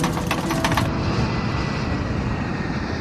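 An airliner stall warning with a stick shaker vibrating the control columns. It starts as a rapid mechanical rattling over a dense, loud roar, then the rattle stops and a steady broadband rumble continues.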